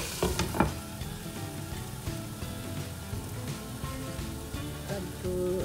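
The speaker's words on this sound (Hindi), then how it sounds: "बल्कि फ्राई कर लूँगी तेज़ आंच पे" Chicken frying in a pan over high heat for spring rolls, a steady, dense sizzle and crackle with a few louder pops near the start, close and constant, with no voices.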